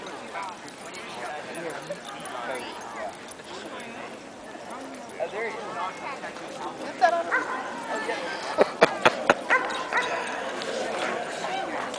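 A dog barks several times in a short burst during a walk in Piedmont Park, Atlanta, over outdoor ambience with a few whimpers and yips, and people talk around it.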